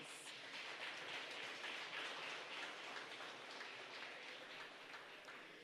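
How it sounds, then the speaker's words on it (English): An audience at the CARIFESTA XV media launch gives a round of applause, a steady wash of many hands clapping that holds at an even level for several seconds, moderately distant, with no talking. "please give them a round of applause"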